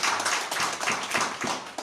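A church congregation claps for Jesus during a worship service, a dense, sustained wash of many hands slapping together close by, steady throughout with no talk over it.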